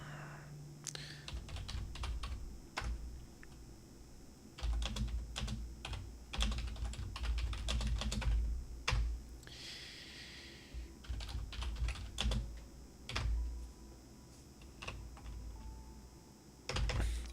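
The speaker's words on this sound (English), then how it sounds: "I'm bad at typing." Bursts of quick clicking keystrokes on a computer keyboard come in uneven clusters separated by short pauses, close and fairly quiet.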